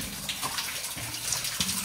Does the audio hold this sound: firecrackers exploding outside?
no